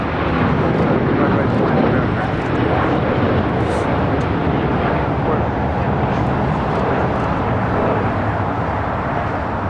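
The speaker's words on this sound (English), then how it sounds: "This is a 787-8 Dreamliner" A Boeing 787-8 Dreamliner at LAX gives off a loud, continuous jet roar that holds steady throughout, with faint voices mixed underneath.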